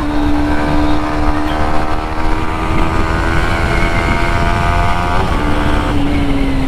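A Yamaha MT-15 motorcycle engine runs at speed with a steady, smooth drone whose pitch holds nearly level, briefly dipping and shifting near the end, loud and close with no talk.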